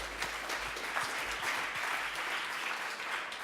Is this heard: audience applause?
yes